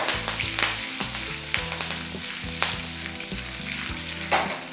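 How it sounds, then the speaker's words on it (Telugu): Fresh curry leaves dropped into hot ghee as a tempering for katte pongali, with the stove switched off. They give a steady, close crackling sizzle with bursts of spitting throughout. A low background tone runs underneath, and no one speaks. "ఇప్పుడు మనం స్టవ్ ఆఫ్ చేసుకుని కరివేపాకు వేసుకుందాం"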